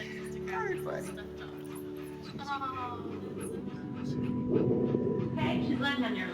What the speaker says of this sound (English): It's a real puppy.